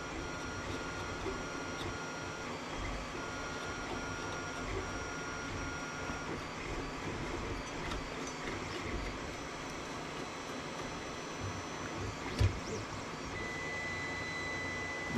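An Ender 3 V2 3D printer runs its screw drive with a steady mechanical whir and faint motor whine, a continuous hum with small clicks, heard close without talk.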